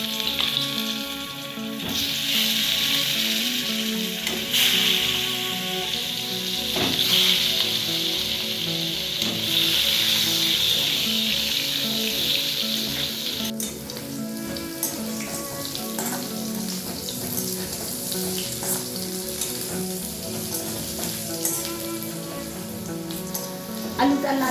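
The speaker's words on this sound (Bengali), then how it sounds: "ওই মাছ ভাজার তেলের মধ্যে আলুগুলোকে ভেজে নেব" Potatoes fry in oil left over from frying rohu fish, a loud close sizzle with bursts of spitting and the clatter of stirring. The sizzle softens partway through.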